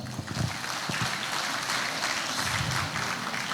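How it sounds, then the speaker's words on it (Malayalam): An audience at a tech company's festival event applauds, a dense, steady patter of clapping from many hands that carries through the whole stretch. "ഐ വിക്ക് നല്ലൊരു കയ്യടി കൊടുക്കുക"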